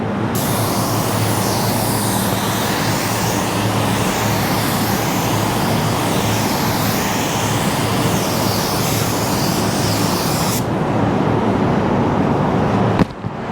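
A Drizzle D1 paint gun sprays clear coat in a steady, loud hiss of air and atomized paint that cuts off abruptly near the end, leaving a quieter hum.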